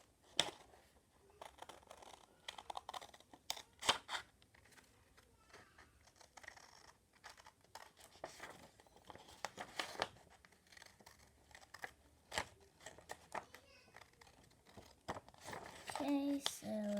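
Scissors snip paper petals for a swirl card, a run of short crisp cuts and light crinkling of the sheet, close and quiet, irregular in rhythm.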